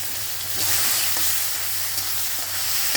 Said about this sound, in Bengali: দিয়ে দেব কেটে রাখা পেঁয়াজ। দিয়ে দিচ্ছি কেটে রাখা পেঁয়াজ।